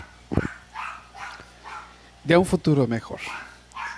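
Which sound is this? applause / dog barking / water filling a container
dog barking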